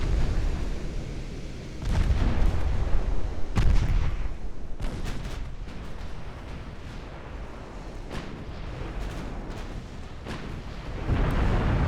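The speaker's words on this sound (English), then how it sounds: "finally getting those battleship guns on target" Battleship guns firing in the naval strategy game Ultimate Admiral Dreadnoughts during a 1904 French campaign battle: several heavy booming salvos land at intervals over a constant rumbling roar, loud and close, with no speech.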